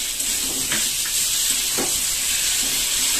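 Cumin and chili paste fries in oil while a Bengali tilapia curry with ridge gourd and potato cooks. It makes a soft, steady sizzle and hiss, with a couple of faint stirring touches and no voices.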